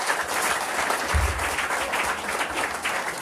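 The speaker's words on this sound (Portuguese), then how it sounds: "Vamos agradecer de forma supina, soltando 3 fortes salvas de palmas." Steady, dense applause from a large congregation at a Tocoist church Sunday service in Benguela fills the whole stretch, loud and continuous with no pauses.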